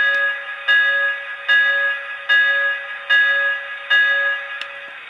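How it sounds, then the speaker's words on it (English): Toy Lionel LionChief Hogwarts Express train rings its bell, a bright electronic clang repeating at an even pace about every 0.8 seconds, six or seven strikes, close and clear with no voices. "Here's the bell."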